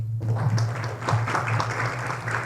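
Applause welcoming the guest speaker at a university lecture on constitutional reform and referendums, a steady clapping crowd filling the room with a low hum beneath, continuous and moderately loud throughout.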